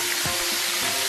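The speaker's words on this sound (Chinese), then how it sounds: "重新把虾倒进来，大火复炸1分钟" Shrimp refry in hot oil over high heat, giving a loud, steady, dense sizzle with no pauses and no talking.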